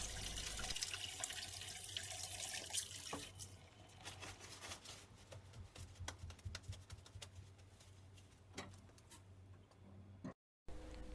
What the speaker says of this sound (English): Start off by washing your hands, making sure that you are doing all of the different steps.